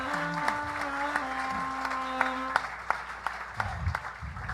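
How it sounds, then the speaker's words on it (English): A comedy club audience breaks into applause after a stand-up set at a roast-style show, a steady wash of clapping with faint crowd noise and some tonal sounds underneath. "You got a big applause break there."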